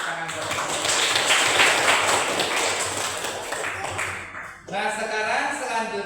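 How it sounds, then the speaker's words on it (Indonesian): Students in an Indonesian classroom give a round of applause, a dense burst of clapping lasting several seconds before it stops abruptly and a voice begins speaking. "berikan dulu tepuk tangan buat mereka"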